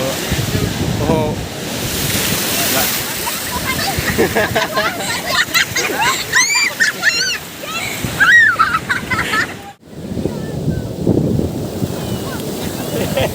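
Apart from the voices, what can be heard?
sea waves on the shore at Devgad beach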